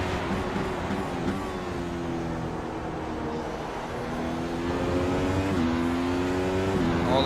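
A McLaren MP4-30 Formula 1 car screams around Interlagos in the iRacing simulator, its engine note holding a high sustained whine that shifts pitch through gear changes and throttle lifts, loud and continuous with no talk.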